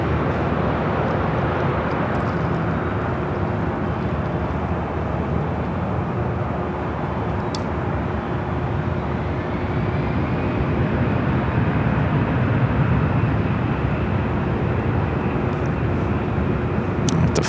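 A jet airliner bound for Austin, Texas rolls down runway 24 left at LAX for takeoff, its engines a steady, broad roar that holds at constant loudness throughout, heard from a distance with no talk.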